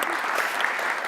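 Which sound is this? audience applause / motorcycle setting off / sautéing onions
audience applause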